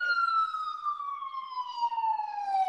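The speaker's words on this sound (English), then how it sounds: "Have some canned ambulance siren in the background?" An ambulance siren plays as canned background audio, a single clear tone gliding slowly downward with faint harmonics, moderately distant and steady with no talking.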